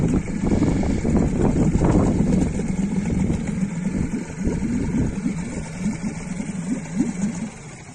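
A Yamaha 4 two-stroke outboard boat motor, in good condition, runs steadily and close by with a continuous low putter and slight fluctuations across the whole stretch, with no talk over it.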